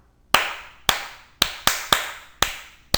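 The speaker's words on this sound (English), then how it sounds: "clap with me now." Seven sharp hand claps ring out one by one, clear and close, each followed by a brief reverberant tail in an otherwise quiet room.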